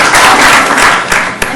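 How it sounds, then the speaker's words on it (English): Brief burst of dense applause from a symposium audience, loud and close at first, then thinning to a few scattered claps as it fades. "We should, yes, applaud"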